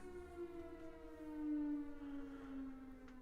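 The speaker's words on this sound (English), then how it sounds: "That sound is the alarm." A distant noon warning siren wails, holding a steady tone that slowly dips in pitch, faint and far off.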